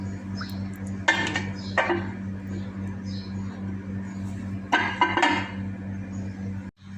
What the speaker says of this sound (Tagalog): Magaan siya, tapos lagyan na natin ng plato ito.